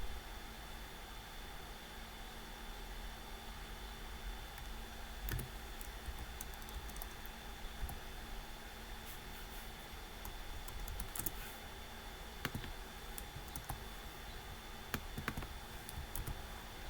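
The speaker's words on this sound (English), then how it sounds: "you basically just want to type in the name of your domain" A domain name being typed on a computer keyboard: faint, scattered key clicks in short bursts over a quiet background hiss, with no talking.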